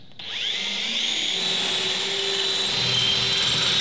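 A small power drill whirs steadily and loudly at close range beside a beekeeper's honey uncapping box, rising in pitch as it spins up and holding a continuous whine with no talking.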